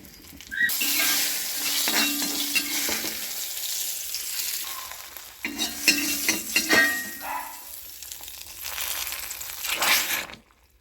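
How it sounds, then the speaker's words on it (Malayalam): Mustard seeds and curry leaves splutter and crackle in hot oil for a mushroom curry, with bursts of sizzling and stirring clatter that rise, pause and return, close up. "കടുക് വറുത്ത് കടുക് കറിവേപ്പിലേക്ക് ഇട്ട് കടുക് പൊട്ടിച്ച്"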